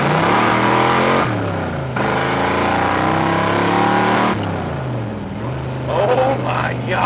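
A 1963 Dodge 330 Max Wedge accelerates hard in first gear, its engine climbing through loud rising revs with a brief shift-like dip, then pulling again as tires spin; a voice exclaims over the roar.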